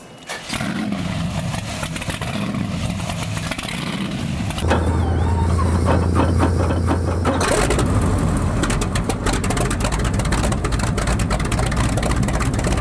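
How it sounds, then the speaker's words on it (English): The large piston engine of a Sikorsky S-58 (H-34) helicopter roars loudly and roughly, shifting up in intensity partway through, with a throaty rumble like a speedboat. "It doesn't sound anything like a modern helicopter when you start it up."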